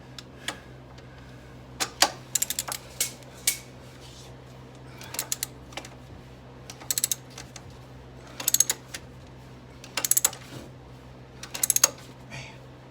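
A ratchet with an extension working an old nut off a wheel stud on a 2007 Jeep Patriot, giving bursts of quick metallic clicking in irregular clusters, close and moderately loud over a quiet low hum.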